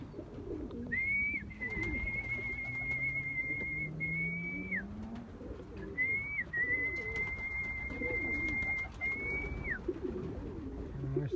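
Pigeons, a mix of hens and cocks, coo continuously in a loft, with low repeated calls layered close together and two long thin whistle-like tones riding above them.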